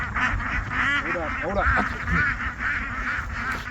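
Ducks quack in a loud, scattered chorus while being herded on a small homestead, with a voice calling to them over the honking.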